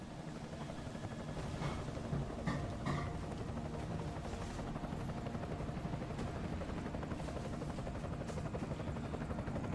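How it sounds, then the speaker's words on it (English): An enemy helicopter in the video game Deus Ex: Mankind Divided produces a faint, distant, steady rotor rumble under a low wash of game ambience, with a few soft clicks along the way. "Enemy helo sighted."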